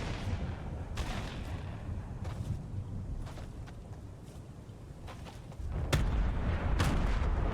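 Grenade explosions in Fortnite, several dull booms and bursts scattered across the clip at irregular intervals, with a heavier low rumble toward the end, moderately distant over background noise.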